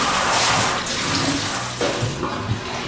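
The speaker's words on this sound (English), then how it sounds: "Just cold water." Cold tap water running steadily to rinse out a winemaking bucket, a loud close gush and splash that shifts slightly as the flow hits the container, with no talk over it.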